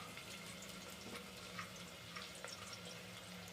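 Chopped onions go into hot ghee in a pan for a Pakistani-style potato and egg dish, giving a steady, even sizzling hiss that stays close and constant throughout with no talking.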